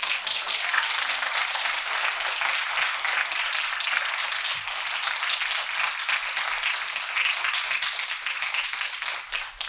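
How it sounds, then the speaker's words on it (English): An audience applauds women survivors at a Bhopal justice tour event, with dense, steady clapping that carries on evenly for about ten seconds, unbroken by talk. "If we could give them one more round of applause"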